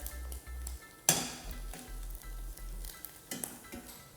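Salmon skin crackles and sizzles in a pan, with a sharp clatter of utensils and light scraping or stirring noises breaking through the steady frying hiss.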